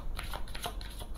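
Oracle cards, a Lenormand deck, being shuffled in a brief close burst of quick flapping riffles.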